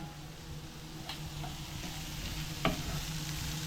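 Chopped leftover vegetables fry and soften in a pan for an omelette, a steady low sizzle with faint stirring scrapes and a brief louder clatter near the end, no one speaking.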